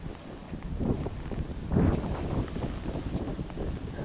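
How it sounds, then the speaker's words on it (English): Wind blowing through leaves near horses on a gusty day, making a rustling roar and microphone buffeting that swells in gusts, louder near the middle. "Very windy, isn't it? All the noise through the leaves."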